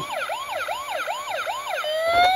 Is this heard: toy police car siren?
yes